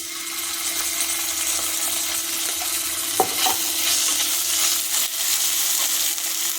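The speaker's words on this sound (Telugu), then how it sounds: "ఇప్పుడు దీంట్లో అల్లం వెల్లుల్లి పేస్ట్ వేసుకుందాం" Ginger-garlic paste frying in oil with browned onions for a jackfruit seed curry, a steady close sizzle with occasional stirring scrapes and one sharp tap of a utensil, with no voices.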